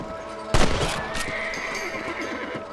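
A horse in Red Dead Redemption lets out a single loud, close whinny, with faint hoofbeats and background game sounds continuing after it.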